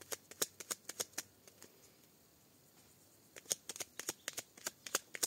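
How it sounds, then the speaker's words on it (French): Oracle cards being shuffled by hand: two quick bursts of crisp riffling flicks, close and quiet, separated by a short pause of near silence. "on va juste aller tirer une petite carte"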